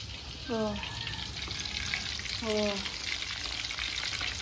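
Catfish fry in hot oil in a wok, giving a continuous soft sizzle and crackle, with two brief higher tonal sounds rising above it.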